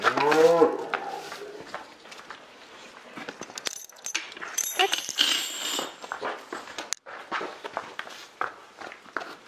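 Cows give a loud, close moo at the start, then footsteps shuffle and scuff through straw or ground with rustling and knocks, as a woman tends her cows on a farm.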